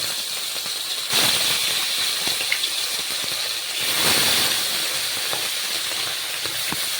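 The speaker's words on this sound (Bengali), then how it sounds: "তেলটা গরম হয়ে গেছে এবার মাছগুলোকে আমি ভেজে নেব" Small chapila fish fry in hot oil, making a steady, loud sizzling hiss that swells briefly a couple of times as pieces shift in the pan, with no talk.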